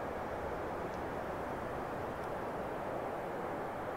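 A ToLiss A321 airliner descending in the X-Plane 11 flight simulator, a steady broad engine and airflow rumble holding level throughout, with no talking.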